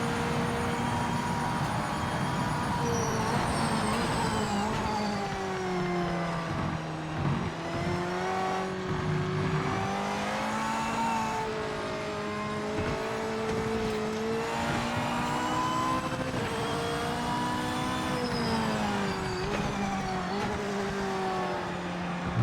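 Race car engine in Project Motor Racing played on a Fanatec GT DD Pro wheel, revving continuously with rising and falling pitch through gear shifts and downshifts, loud and steady, with no talk over it.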